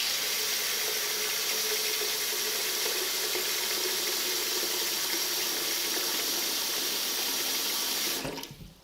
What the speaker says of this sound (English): What we want to do is cover the rice with water.